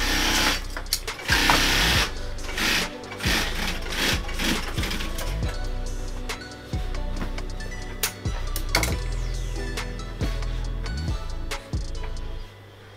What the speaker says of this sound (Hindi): ये देखिए मशीन हमारे देख सकते हैं आप, यहाँ मशीन चल रहे हैं सिलाई की तरीके से